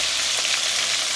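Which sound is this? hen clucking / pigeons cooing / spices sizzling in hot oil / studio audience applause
spices sizzling in hot oil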